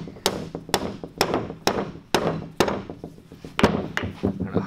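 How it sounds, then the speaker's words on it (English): A hammer bumps a wedge down into an old blacksmith's leg vice under restoration, giving about ten sharp, close metallic knocks at a steady, unhurried rhythm with no voices. "We bump it down with a hammer."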